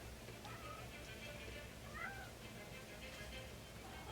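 A house cat meows faintly a few times amid a quiet indoor background hiss, with brief soft cries spaced across a few seconds.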